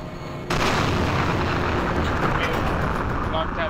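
After a brief quieter moment, a loud cannon boom from a tank video game erupts and rolls on into a sustained, heavy rumble that fills the rest of the span.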